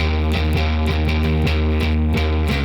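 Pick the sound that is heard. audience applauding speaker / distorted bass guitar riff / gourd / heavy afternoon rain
distorted bass guitar riff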